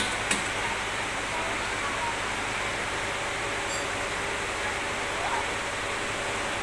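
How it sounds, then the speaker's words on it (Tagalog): Heavy rain pours down in a dense, steady roar beside a creek, filling the whole clip without pause. "May buhos ng ulan o, lakas."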